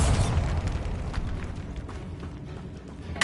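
A Bombarda spell goes off in the video game Hogwarts Legacy as a dense, rumbling explosion that starts loud and stays heavy with crackling debris for a few seconds before slowly easing.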